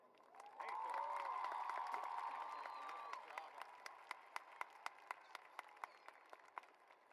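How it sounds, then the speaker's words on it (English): A crowd applauds warmly for a few seconds at a high school graduation, then the clapping thins out into a handful of sharp, isolated claps. "a big round of applause for Anthony"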